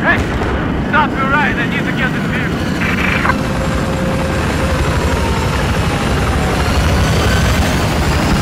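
An enemy helicopter in the video game Battlefield 4 rumbles continuously under heavy battle noise and gunfire, with a loud, dense low drone throughout and brief bursts of game sounds early on.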